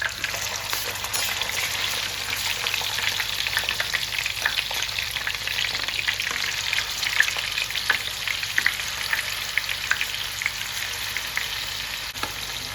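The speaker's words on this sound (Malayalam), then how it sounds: "സണ്ണി ഓയിലാണ് ഒഴിച്ചു കൊടുക്കുന്നത് ഓയിൽ ചൂടായിട്ടുണ്ട് നമ്മളത് ചിക്കൻ ഇടാൻ വെക്കാം" Chicken frying in hot sunflower oil in a pan, a steady dense sizzle and crackle with small pops, continuous and close for the whole stretch.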